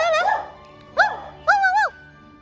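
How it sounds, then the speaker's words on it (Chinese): A dog in a yard gives three short, high, close yipping barks, each separated by a brief pause. "你冲我一直叫什么叫？"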